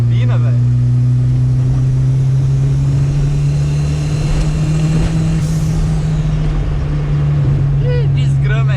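A Chevette car engine making a strange noise while driving on rough asphalt, a loud steady low drone with a whining hum over road rumble, and someone talking over it.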